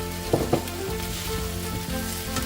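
Cherry tomatoes frying in a pan, a steady close sizzle with a couple of sharp pops and spits early on as they hit the hot oil, no talking.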